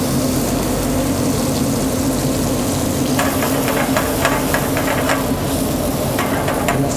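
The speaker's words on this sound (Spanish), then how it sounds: "Lo sellamos, dejamos que rehogue." Leek sizzling and frying in hot oil in a pan, a steady dense crackle throughout with occasional stirring and clicks from about three seconds on, close and fairly loud with no talk.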